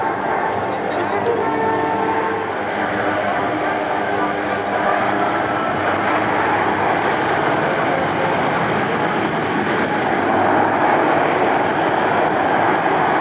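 A Lockheed C-130J turboprop with Allison engines rolls for takeoff at a 2005 Rhode Island airshow, its steady, loud engine roar filling the air while an announcer talks over it.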